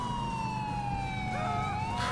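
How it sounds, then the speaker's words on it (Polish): Ambulance siren from the video game GTA 4, a steady wailing tone sweeping slowly downward over a constant rumble of traffic, loud and close for the full two seconds, with another siren layering in near the end. "U, karetki. Nienawidzę karetek, jestem policją."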